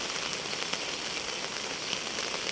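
Constant rainfall hisses and spatters on a muddy road nearby, an even, unbroken wash of drops.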